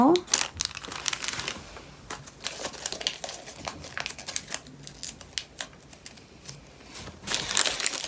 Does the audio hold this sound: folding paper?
yes